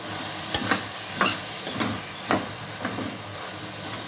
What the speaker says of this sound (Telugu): టమాటా ముక్కలు బాగా ఆయిల్లో ఫ్రై అయినాయండి